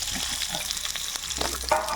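Thin-sliced potatoes going into hot oil tempered with radhuni seeds, a close, bright hiss and sputter of frying that flares briefly near the end.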